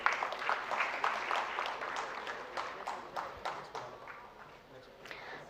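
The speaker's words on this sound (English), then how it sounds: "Can we have a round of applause, please?" A modest round of applause from an audience at a panel session on sustainable development, scattered clapping that starts fairly strong and fades away over a few seconds.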